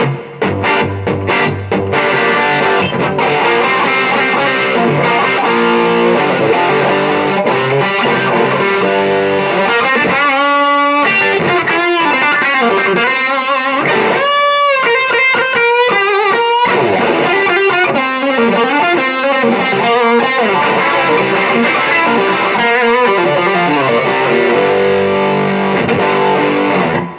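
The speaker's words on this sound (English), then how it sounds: "as we bring the volume back up on this treble pickup, we've got a really nice heavy gain sound" Electric guitar through an Orange Crush amp on the treble pickup with heavy gain, played loud and continuously as thick distorted chords and riffs with sustained ringing notes, no talking.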